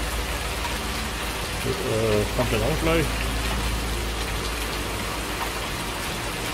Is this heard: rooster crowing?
no